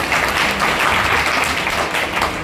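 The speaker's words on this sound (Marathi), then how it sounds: "इथं जोरदार टाळी वाजवायचा" Loud, dense applause from the audience at a kirtan, a continuous wash of clapping hands close by, filling the short moment without pause.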